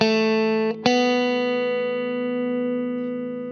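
A guitar sustains a bright, buzzy chord, is briefly cut and restruck once, then rings out steadily and slowly decays, with no one speaking.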